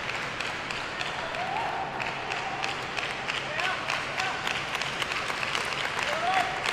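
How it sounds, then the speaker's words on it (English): Sustained applause from a large crowd at a table tennis semi-final fills Kalinga Stadium, steady clapping echoing and rising slightly toward the end, with faint distant voices mixed in. "The claps are resounding. You can hear them echo across the stadium"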